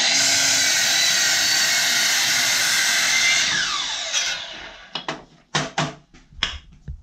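A power saw makes the final bevel cut through wood for a carpenter bee trap, a loud continuous whine for about four seconds that winds down, followed by several sharp knocks and clatters of the cut piece.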